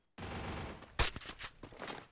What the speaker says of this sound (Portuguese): Um tiro, cara.